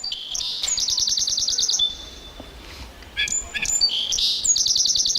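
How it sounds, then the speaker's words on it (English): A song sparrow sings several bright phrases of sharp repeated notes and trills, clear and close, broken by short pauses and followed by further chirps, with no talking. "a lot of us recognize the sound of the song sparrow"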